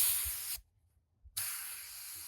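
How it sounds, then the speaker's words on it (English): A close, steady air hiss from an airbrush being back-flushed cuts off for under a second, then resumes at full strength, a bubbling spray of air. "It's called back flushing, and it'll clean those little orifices and passages"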